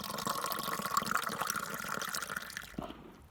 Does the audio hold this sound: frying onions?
no